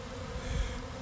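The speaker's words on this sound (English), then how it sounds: "you can see these bees are pretty busy here. A lot of bees on the buckets." Honeybees swarming bucket feeders of sugar syrup in a bee yard during a November inspection, a steady dense buzz of many insects close by with no voices.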